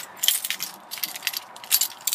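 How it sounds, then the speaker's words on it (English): Car keys and fobs for a Land Rover 110 Pickup jangle close by, a rapid cluster of bright metallic clinks and rattles in uneven bursts, with no talking over them. "two keys, two fobs"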